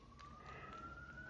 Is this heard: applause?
no